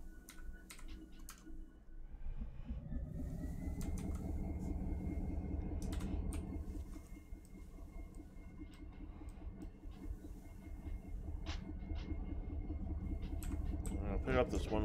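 Locomotive rumble from the Run 8 Train Simulator V2 game, a steady loud low drone that swells after a brief quieter start and holds throughout, with faint clicks and tones scattered over it and a voice speaking occasionally.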